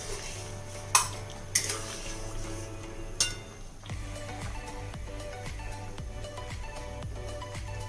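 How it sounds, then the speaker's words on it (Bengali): Cornflour is stirred into a dish in a pan, with a few metallic scrapes and clinks of a utensil early on, then steady stirring over a soft bubbling, liquid texture. "এবার কর্নফ্লাওয়ারটা আস্তে করে দিতে হবে। করে নাড়তে হবে।"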